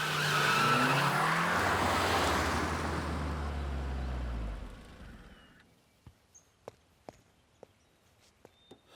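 A car skids away with squealing tyres and a roaring engine that fades into the distance over several seconds, followed by quiet with a few sharp footsteps or knocks.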